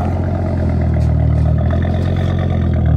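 An Audi TT RS idles close by with a deep, steady, rumbling engine note that holds constant throughout, with no talking over it.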